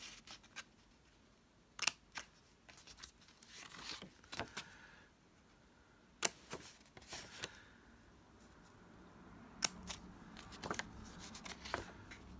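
Scissors snip out a small square of paper in a quiet room, with several sharp, separate cuts scattered across the stretch and soft rustling of the sheet between them.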